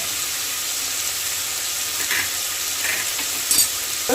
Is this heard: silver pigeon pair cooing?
no